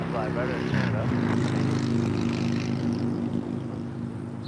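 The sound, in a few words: Air Canada heavy jet taking off from runway 25 right at LAX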